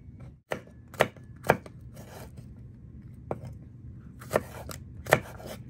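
Garlic being chopped with a knife on a board for fish sauce: a handful of sharp, separate knife strikes spaced irregularly, close and fairly loud against a quiet kitchen background.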